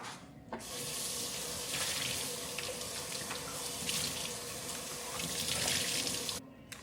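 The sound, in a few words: tap water running while washing dishes in sink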